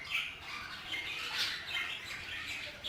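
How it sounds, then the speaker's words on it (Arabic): Budgerigars, Hogoromo budgies, chatter and squawk in an aviary in a steady, dense chorus of overlapping chirps and calls, no voices heard. "اليوم سوف أعرض لكم محمية طيور الباجي الفلل الهوغو"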